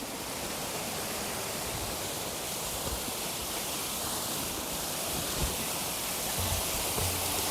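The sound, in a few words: small waterfall flowing down from the mountain, Bhim Ganga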